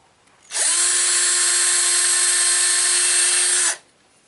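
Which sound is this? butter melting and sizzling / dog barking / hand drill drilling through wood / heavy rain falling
hand drill drilling through wood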